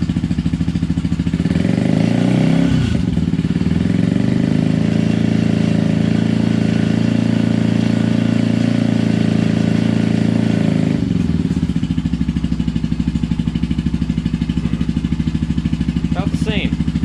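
A motorcycle fitted with a Pipe Werx exhaust idles loudly and close, swelling into a rev around two to three seconds before settling back to a steady, rumbling idle.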